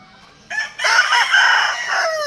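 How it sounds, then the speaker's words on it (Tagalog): A rooster crows once in a loud, close, drawn-out call that rises and holds for about a second and a half, clear and alone without any talk. "Ito, sigurado, manok to."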